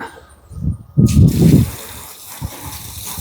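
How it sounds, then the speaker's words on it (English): Water gushes from a hose in bursts, a loud splashing rush lasting about a second, then quieter spattering and drips. "Outside, I'm going to spray it with water"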